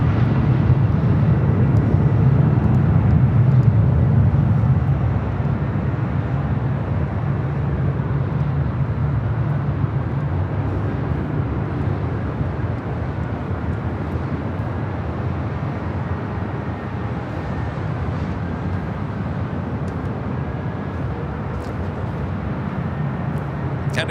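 An airliner taxis at LAX, turning toward Tom Bradley terminal, its engines a continuous steady rumble at moderate distance that eases slightly after the first few seconds, with no talk over it.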